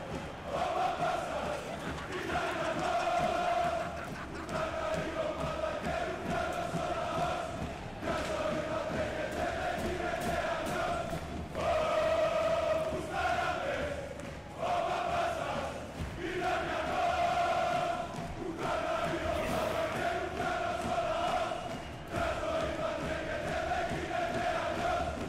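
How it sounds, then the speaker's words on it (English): A crowd of Dark Elf supporters cheering in a fantasy football video game, a sustained roar with swelling chants and shouts that rise and fall in waves throughout, loud and continuous. "the Dark Elf supporters are going to cheer long into the night on that one there"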